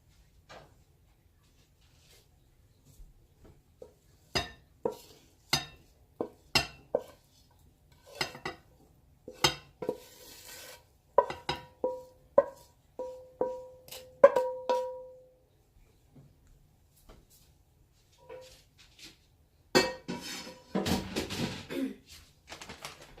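Cream cheese, green onions and ground turkey mixed in a bowl for stuffed jalapeños, heard as scattered clinks and scrapes of a utensil against the bowl. Irregular taps come close and fairly quiet, building to a denser clatter near the end, with no speech.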